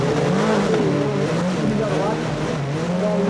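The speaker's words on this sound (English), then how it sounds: "Hear the engine screaming as he comes down that bit of the straight, and then he brakes" A race car at the 1988 Race of Champions screams down a straight, its engine note steady and loud, with faint commentary underneath.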